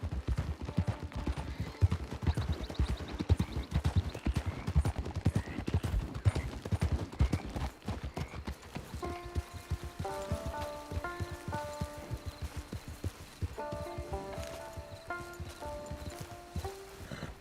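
Steady rhythmic horse hoofbeats clip-clop at a trot in the video game Red Dead Redemption 2, while soft musical tones join partway through.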